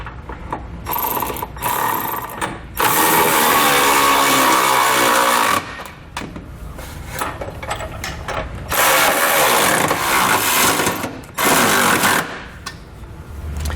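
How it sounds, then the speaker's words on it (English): Loud, continuous rattling whir of a power tool driving an 11/16 socket as trailer hitch hardware is snugged up on a 2019 GMC Acadia, running in long bursts with brief pauses between, close and with no talk. "You want to make sure you come back with an 11/16 socket, and we're going to snug up all of our hardware."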